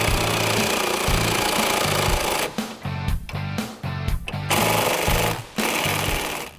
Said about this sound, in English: we're going to tighten the strut nut.